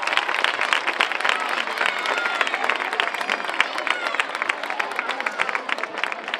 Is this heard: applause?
yes